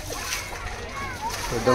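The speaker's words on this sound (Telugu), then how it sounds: "నీళ్ళు తోడడం జరుగుతుంది" Water sloshes and splashes as it is scooped and poured back on a farm plot during a school farming trip, short wet bursts close by under children's chatter.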